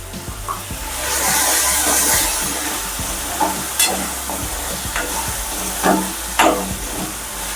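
Tomatoes with salt sizzle steadily in a hot pan for a green pigeon pea curry, with repeated scraping stirs cutting through the continuous frying hiss, close and fairly loud.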